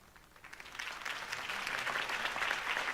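Crowd applause following Harvey Dent's campaign speech in the Batman Telltale Series game, beginning faint and swelling into a fuller, sustained wash of clapping that stays moderately distant.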